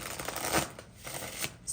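A deck of tarot cards is shuffled by hand, off the table, giving a soft flurry of papery riffles and flicks in uneven bursts, close and fairly quiet, with no talking.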